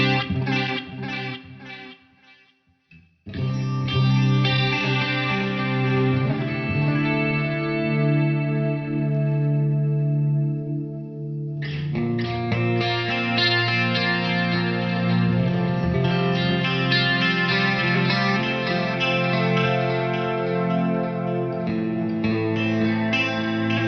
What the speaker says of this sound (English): this mod control works a little bit more like an actual flutter